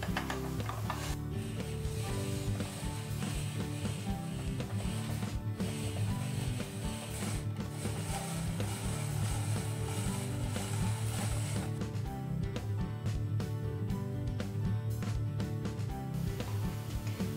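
A hand-crank spiralizer turns zucchini into noodles with continuous ratcheting, gear-like clicking and rubbing in a steady rhythm, close and unbroken throughout, without speech.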